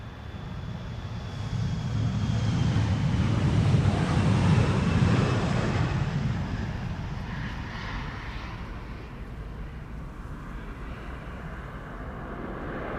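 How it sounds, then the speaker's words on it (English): A KLM passenger jet, seven years old, departs Amsterdam Schiphol bound for Wrocław. A broad engine roar swells to a peak, then slowly fades into distant rumble and wind noise, with no voices. "This is KLM flight 1337 going to Wrocław or something."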